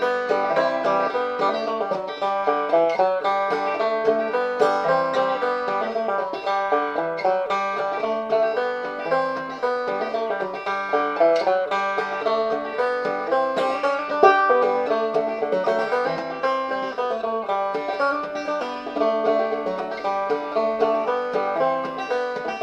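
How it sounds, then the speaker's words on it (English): Clawhammer banjo played with the basic frailing strum, a steady rhythmic brush and pluck blending melody and harmony, bright and close, continuous with no talking. "the right hand technique, called the basic frailing strum"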